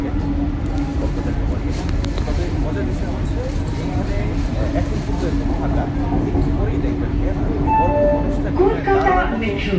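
A Kolkata Metro underground train running, with a loud, constant rumbling roar of wheels and carriage noise throughout and a brief faint tonal chime near the end, with no voices standing out.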